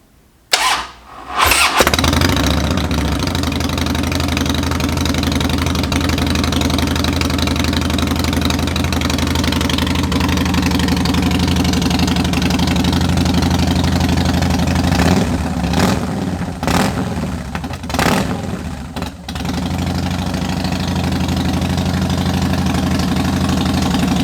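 A 2007 Harley-Davidson Softail FXSTB Night Train engine cranks and fires up, then settles into a loud, deep, lumpy idle close by, with a few brief revs and dips near the end.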